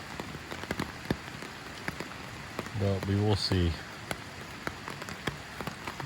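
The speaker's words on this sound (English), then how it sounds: "As you can probably hear on the tarp there." Steady rain patters on a taut tarp with sharp irregular drops close by, while someone briefly speaks midway.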